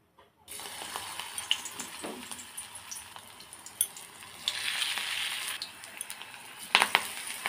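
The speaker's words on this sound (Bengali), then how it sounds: "এই দেখো বন্ধুরা, বড়াগুলো ভেজে নেব।" Gima greens fritters bound with flattened rice fry in a little oil, a close, crackling sizzle that swells midway, with a few scrapes and knocks of a spatula in the pan and no voices.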